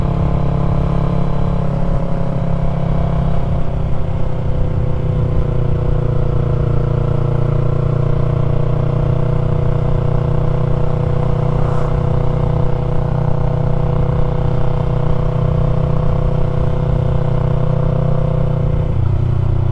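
A Yamaha MT-03 motorcycle with a new aftermarket exhaust cruises along backroads, its engine holding a loud, steady drone with low rumble and shifting harmonic tones, recorded close and without talk.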